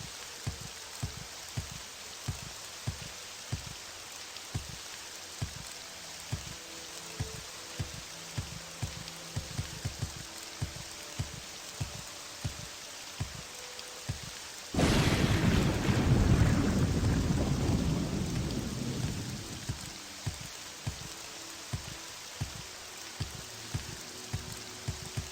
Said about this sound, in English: the thunder in this game is pretty loud